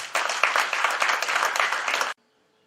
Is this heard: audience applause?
yes